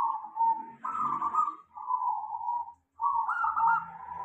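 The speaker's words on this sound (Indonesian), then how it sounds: "perkutut kecil ini dinamakan jenis perkutut lokal suara ngiklik alias" A small local zebra dove (perkutut) of the ngeklik type gives clear, close, repeated cooing calls in several bursts, alone with a brief pause near the end.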